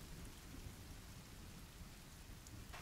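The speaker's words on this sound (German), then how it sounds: "Sonnenaufgang mit Regen, wunderbar." Steady rain falls at sunrise in The Forest video game, a dense, even wash of raindrops that holds at the same level throughout with no voices.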